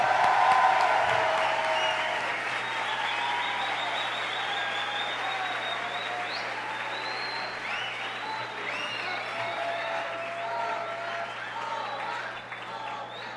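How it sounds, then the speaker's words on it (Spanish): A large lecture audience gives a big round of applause at a sports psychology conference on heart rate variability, a steady wash of many hands clapping that holds for the whole stretch and slowly eases, with faint voices underneath. "Un aplauso grande"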